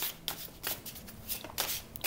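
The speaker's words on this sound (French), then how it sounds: "moi, je vais sortir une carte pour chaque phase lunaire" Oracle cards from a dark-themed Dark Mirror Oracle deck being shuffled by hand, a series of quick papery riffles and slides in short bursts, close and fairly quiet, with no talking.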